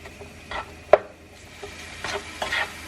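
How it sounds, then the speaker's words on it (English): Garlic and onions stir-fried in a pan for a creamy beef pasta, with soft scraping strokes, a single sharp knock against the pan, and a quiet sizzle under the stirring. "it says cook for 2 minutes, stirring frequently"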